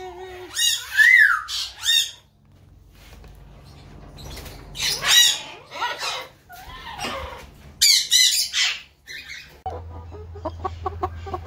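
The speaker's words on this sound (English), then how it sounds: "my true love gave to me five pretty birds" Birds squawk and cluck in loud, sharp bursts, several calls separated by short pauses, close by, ending in a quicker run of softer clucks over a low hum.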